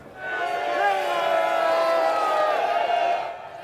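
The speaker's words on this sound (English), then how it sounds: "giving a lot of cheers, a lot of waves" A large crowd at a Tommy Robinson rally in London cheers and waves, a loud, sustained roar with ringing, chant-like tones that swell and hold for several seconds before easing off.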